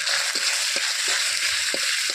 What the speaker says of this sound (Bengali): আদা বাটাটাকে ভালো করে তেলে ভেজে নেব